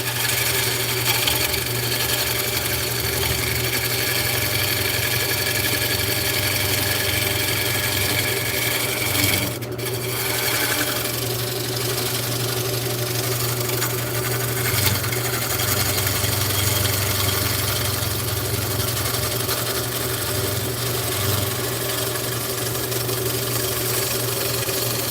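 A wood lathe runs with a steady, loud mechanical hum while a scraping tool works the inside of a turned piece during hollowing, a constant grinding drone with slight variations and no talk.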